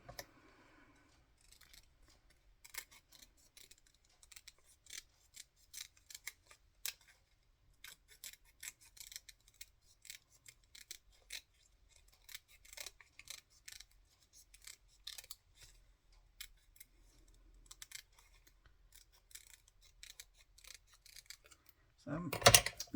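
Scissors snip paper in short bursts and rapid runs of cuts while trimming pieces for a papercraft project, close and crisp, with quiet pauses between cutting spells.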